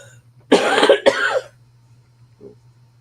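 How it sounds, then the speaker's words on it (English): A sick person coughs twice in quick succession, two loud harsh bursts close to the mic, followed by a faint short wheeze or throat sound over a steady low hum. "about all the coughing and wheezing"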